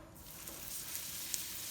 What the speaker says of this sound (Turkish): Şimdi yağımızı kızdırdık. Böreğimizi koyuyoruz.